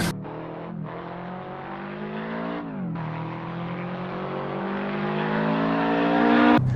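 Subaru WRX STI in Assetto Corsa, its all-wheel-drive engine droning steadily near and loud, pitch rising through the gears with brief dips at shifts and a climbing rev toward the end, no voices.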